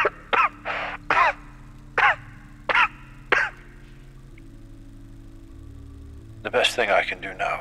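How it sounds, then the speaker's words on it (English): A man coughs repeatedly into a handkerchief, a run of sharp, close, evenly spaced hacks followed by a quiet pause and then a rougher burst of coughing. "continues coughing into his handkerchief"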